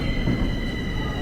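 A Bucharest metro train rumbles steadily with a constant low roar and a faint high whine, close by and with no talking.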